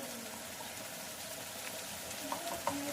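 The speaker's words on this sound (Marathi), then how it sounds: "हे सगळे जिन्नस एकदम असे फ्राय करून घ्यायचे आहेत" Ground spices and garam masala frying in a pan for spicy moong dal varan, a soft continuous sizzle with a couple of light clinks near the end, close and quiet, with no speech.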